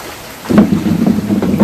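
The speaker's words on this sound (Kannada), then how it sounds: "ಇನ್ನು ಕಲಬುರಗಿ ಜಿಲ್ಲೆಯಲ್ಲಿ ಮಹಾಮಳೆ ಸುರಿತಾ ಇದ್ದು" Heavy rain pours during a downpour in Kalaburagi district, a dense, steady hiss that swells after a quiet opening and holds loud to the end, with low rumbling underneath.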